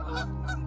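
Geese honk twice in quick succession, clear and fairly close, over a steady low background hum in a wooded clearing.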